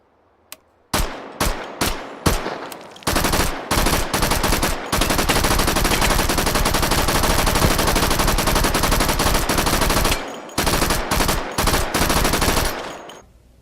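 Gunfire in the VR shooting game H3VR: a few loud single shots, then a long sustained burst of rapid automatic fire lasting several seconds, followed by more separate shots and another burst.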